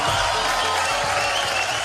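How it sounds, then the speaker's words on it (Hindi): Dense, steady applause from a large crowd at a Bollywood film awards show, loud and continuous throughout with no pauses. "आप सबके लिए जोरदार तालियां पहले तो होनी चाहिए।"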